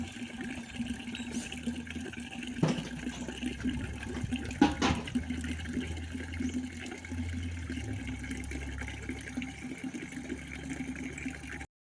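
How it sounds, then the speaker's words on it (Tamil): Water flows steadily from a pipeline outlet left open after washing pots outdoors, a continuous broadband rush with a couple of brief clanks, steady at moderate level throughout. "தண்ணியை வந்து திறந்து விட்ருக்கோம் ஓடிக்கிட்டு இருக்கட்டும்"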